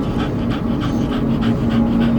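A dog panting close up in quick, steady rhythmic breaths, loud and continuous over a low background hum, with no talking.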